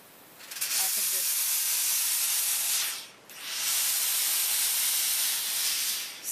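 Steam iron steaming a delicate fabric seam, two long loud hissing bursts of steam separated by a brief pause, with a faint voice at the start.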